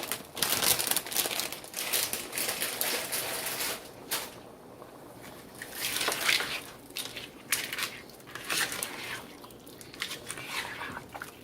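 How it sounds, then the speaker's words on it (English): Frozen corn kernels poured from a half-emptied 12-ounce plastic bag into a pot, a long crinkling, rattling patter with crackling bag noises and irregular surges of tumbling kernels, close and alone. "I'm just going to pour half of this 12-ounce bag in there"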